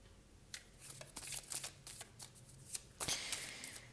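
Tarot cards are shuffled and drawn by hand, with soft papery riffles and flicks in a few quick bursts, close and quiet in a calm room.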